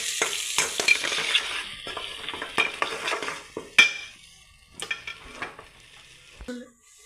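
Oily sautéing of a rooster chicken semi-gravy base with intermittent stirring scrapes and light sizzle, a spoon knocking against the pan now and then, close by with no talking.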